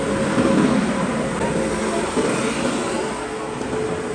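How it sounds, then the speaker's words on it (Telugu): A train rolls into a railway platform with a steady, loud rumble and rail noise that fills the scene throughout. "ఫైనల్లీ ట్రైన్ వచ్చింది"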